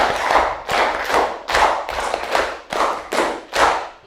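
A group claps in a steady rhythm in a classroom, with about eight bright, evenly spaced bursts falling in pairs, each trailing off before the next.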